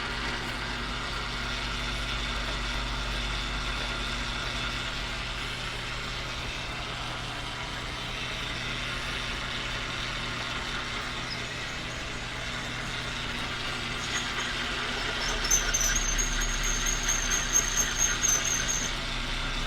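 A metal lathe cutting a metal piece to length, a steady mechanical motor drone with a low hum, and a brief squealing cut near the end, with no talking.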